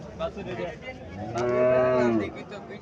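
At a cattle market, a cow lets out one long, loud, drawn-out moo in the middle, with quieter farmyard noise before and after.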